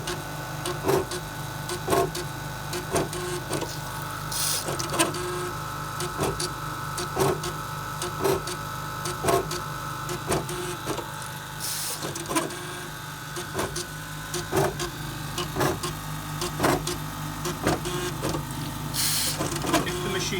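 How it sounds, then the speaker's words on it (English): A DS2 plate washer dispenses liquid into microplate wells and aspirates it back out, giving a regular mechanical cycle of clicks and whirring pulses repeating every second or so, with a few louder hissing bursts. "you can see liquid going into the wells and being aspirated out"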